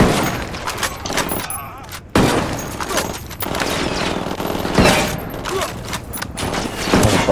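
Enemy gunfire in the Ghost Recon Wildlands shooter comes as loud, ragged volleys of shots, with sharp bursts cutting in around two and five seconds over a constant noisy battle backdrop.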